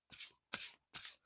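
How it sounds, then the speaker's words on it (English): A deck of tarot cards is shuffled in three quick, crisp riffling bursts with short pauses between, close and clear with no talking. "Do a couple more shuffles"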